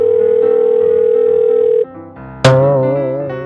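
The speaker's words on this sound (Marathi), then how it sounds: "10 वाजेपासून तुमचा फोन एंगेज लागतोय" A landline telephone tone is heard up close: a steady electronic tone that cuts off, a short low gap, then another loud tone starting abruptly and slowly fading. It suggests a phone line that keeps coming back engaged.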